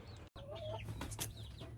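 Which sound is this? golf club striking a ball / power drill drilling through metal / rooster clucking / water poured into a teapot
rooster clucking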